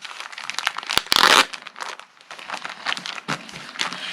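A plastic envelope holding quilt pieces crinkles and rustles up close, with a sharp loud crumple near the start and lighter, intermittent crackling handling after it, with no talk.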